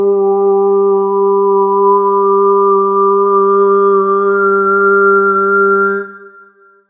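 A harmonic user-defined SpectMorph synth instrument, played without morphing or positional play, holds one loud sustained tone with rich steady overtones for about six seconds before fading out.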